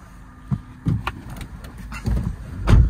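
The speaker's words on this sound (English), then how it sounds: "As you may be able to hear, I have got the car running." A 2011 Vauxhall Zafira B with a 1.8 engine idles quietly as a low, steady hum heard from the driver's seat, broken by a few sharp interior clicks and thumps; no one speaks.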